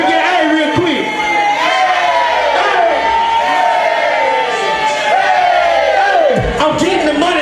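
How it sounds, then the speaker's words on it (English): A packed concert crowd at a trap show in an Austin club shouts back at the rapper in loud unison, sustained cheering and yelling filling the room over several seconds. "Every time I point the mic at the crowd, let me get an A."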